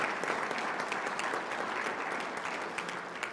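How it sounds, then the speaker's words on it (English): A conference audience applauds, dense steady clapping from a crowd filling the room for a few seconds without pause. "So that group really deserves a round of applause"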